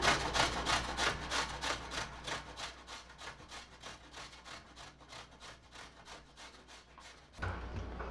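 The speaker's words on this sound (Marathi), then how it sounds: "आपलं रताळं झालेलं आहे किसून" Steady rhythmic rasping of sweet potato being grated by hand, about two strokes per second, close and moderately loud, with a brief change in texture near the end.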